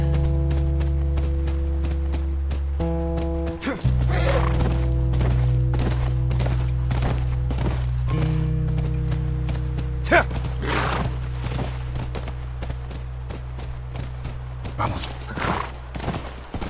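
Horse hooves clip-clop steadily in The Last of Us, a rhythmic run of mid-loud hoofbeats over a low, continuous game soundtrack and ambience that lasts throughout.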